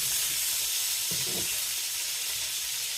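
Small miniature hamburger patties frying in a pan for hamburger soup, giving a steady close hiss and sizzle throughout with a brief louder crackle partway in.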